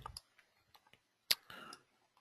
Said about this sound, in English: we will start simulating that by clicking the button